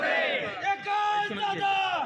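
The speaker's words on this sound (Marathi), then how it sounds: "ही घोषणाबाजी होती आहे ती आपण पाहतोय" Congress party workers chant slogans in unison at a celebration in Sangli, a loud rhythmic crowd cry with voices rising and falling together in repeated bursts, close to the microphone.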